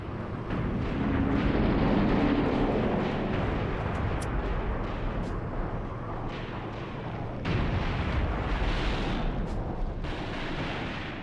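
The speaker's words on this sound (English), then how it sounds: "Jets approaching again, guys. Drop some bombs." Bombs from jets exploding in a war video game set at Khorramshahr in 1980, a long, loud, rumbling roar of blasts and artillery-like booms that swells and renews partway through, continuous and dense with no talk.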